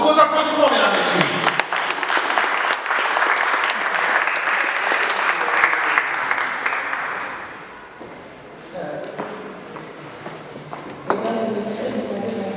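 Audience clapping at an international conference in a hall, a loud dense applause that swells then fades out near the end, with a voice briefly speaking through the tail.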